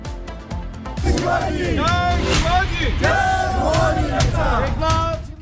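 A crowd chanting slogans in a street in Delhi, shouting together in loud, rhythmic bursts, voices overlapping and sustained, with general outdoor commotion around them.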